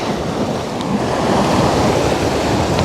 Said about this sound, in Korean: 바람이 너무 불어서